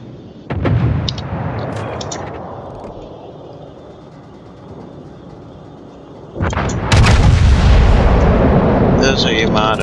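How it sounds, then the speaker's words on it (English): Yamato battleship shells fire in the naval video game World of Warships: heavy booming artillery blasts with a long rumbling roar that eases off, then another loud barrage with crackling bursts, while a voice talks. "Those are Yamato shells"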